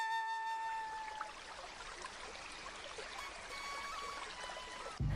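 A cartoon river flows with a steady, gentle trickling rush, continuous and moderately quiet, with a few faint tonal whistles over the water.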